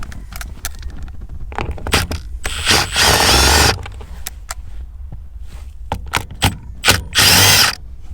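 Power tool such as an impact driver or ratchet removing a nut on a Toyota MR2 during an automatic-to-manual swap, heard as several short, loud mechanical bursts in quick succession with two longer whirring runs, close up, with no talk.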